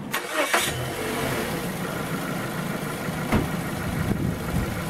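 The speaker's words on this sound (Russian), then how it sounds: "Все, машина завелась." A car engine cranks briefly, then catches and settles into a steady idle. A portable jump starter is connected to the battery for the start. No one speaks.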